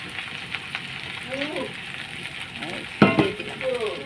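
Potatoes frying in a pan in a home kitchen, a soft steady sizzle beneath brief tonal kitchen sounds and a sharp clink of utensil on pan near the end, with no talking.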